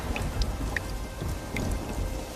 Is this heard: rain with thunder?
yes